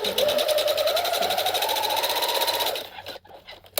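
A sewing machine stitches a side seam at a stitch length of about 4 in a steady, fast, even mechanical whir. It runs close and loud for nearly three seconds, then stops, leaving a few faint handling clicks.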